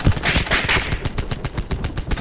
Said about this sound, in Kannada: ಫುಲ್ ಸೈಲೆಂಟ್ ಗನ್ ಇದು.